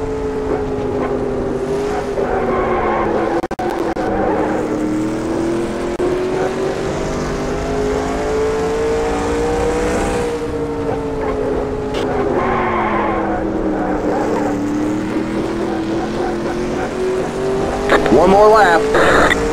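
Race cars lapping in the NR2003 racing game at North Wilkesboro, a steady droning engine roar rising and falling as cars pass, with a louder burst near the end and a voice speaking over it.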